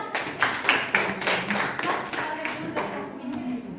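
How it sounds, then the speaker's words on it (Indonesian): A small classroom group claps for student group 6 after their computer networking presentation, a short burst of distinct, rhythmic hand claps from a few people that tapers off within four seconds. "tepuk tangan dulu buat kelompok 6"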